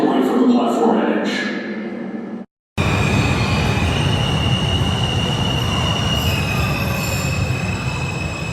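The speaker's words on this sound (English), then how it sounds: "Downtown Express 2 train to Flatbush Avenue, Brooklyn College. Approaching the station" Downtown 2 express train on the IRT 7th Avenue Line at 116th Street station in New York: loud, close rail roar with squealing wheels, after a platform announcement and a brief silent gap.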